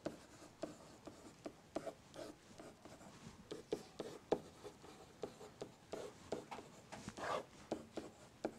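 A math solution, coterminal angles for a trigonometry example, being written by hand in quick, soft, close scratching strokes with brief taps, steady throughout and with no voices.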